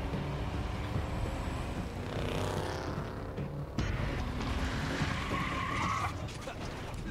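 A car skids in the Tales From The Borderlands video game, a loud, sustained tire screech with engine rumble and mechanical clatter running throughout, with no talk over it.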